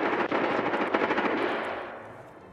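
A close, loud burst of rapid automatic gunfire in the shooter game Escape From Tarkov, dense and continuous for about two seconds before tapering off.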